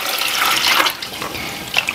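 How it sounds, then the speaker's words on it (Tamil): Water runs steadily from a kitchen tap over tomatoes being washed, a close, continuous splashing rush that dips slightly midway and carries on without talk. "தண்ணி ஊற்றிக்கலாம்."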